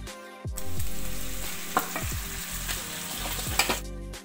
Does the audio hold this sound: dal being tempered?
yes